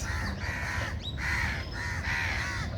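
Crows in a garden give loud, harsh caws, a few drawn-out calls in quick succession. A steady outdoor hum runs beneath them and no one speaks.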